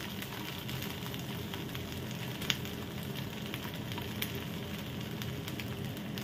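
Fish fries in a pan with a steady, dense sizzle and crackle that runs unbroken throughout, with a couple of sharp pops rising briefly above the hiss.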